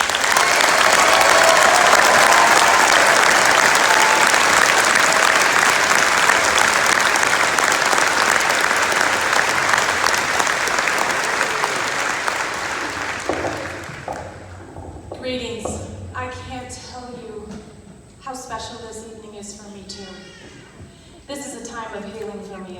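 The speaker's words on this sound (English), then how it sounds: "please give a big round of applause to his sister, Janine Saijan." Loud, sustained applause from a ceremony audience honoring a speaker's sister, a dense wash of clapping that gradually fades after about thirteen seconds as a voice begins talking.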